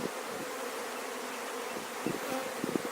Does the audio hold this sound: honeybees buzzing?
yes